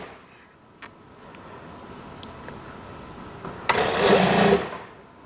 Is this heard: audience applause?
no